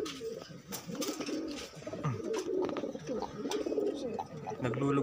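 Pet pigeons cooing on a rainy afternoon, soft repeated coos and a few chirps close by, with the keeper talking quietly over them throughout.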